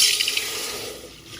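Water poured into a cooking pot to make sugar syrup for suji halva, a steady splashing stream that is loudest at the start and eases slightly, with no talk.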